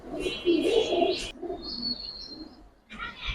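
Giribaz pigeons coo in soft, low throaty bursts at close range, with a few higher chirps mixed in and brief quiet gaps between calls.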